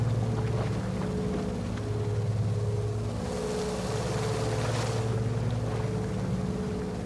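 Truck engine straining at full throttle through deep water in MudRunner VR, a loud steady low drone with a rushing splash of water building midway, no talk.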